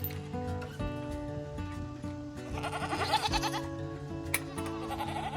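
A nice-sized farm goat bleats near a gate during feeding chores, its wavering cries rising and falling over several seconds with faint rustling around it.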